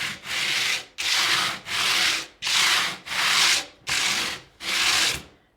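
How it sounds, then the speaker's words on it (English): Wood is sanded by hand with coarse 60 grit sandpaper in seven loud, rasping strokes, each a sustained scratchy burst separated by brief pauses. "That is some gnarly sounding sanding right there."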